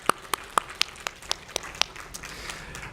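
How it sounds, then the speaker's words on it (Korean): Church congregation clapping during a Korean-language anniversary thanksgiving service, a short run of about eight distinct sharp claps at a steady beat, fading out toward the end. "하나님 앞에 우리 뜨거운 감사의 박수를 한번 돌려드렸으면 합니다"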